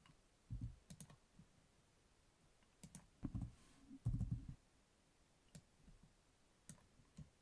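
Scattered keystrokes on a computer keyboard, a few isolated clicks and short bursts of typing, quiet and close with long pauses between.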